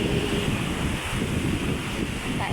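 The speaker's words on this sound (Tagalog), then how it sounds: "natanaw ko na ang kalabsog ng alon." Continuous roar of surf with rushing wind buffeting the microphone, waves churning steadily without pause.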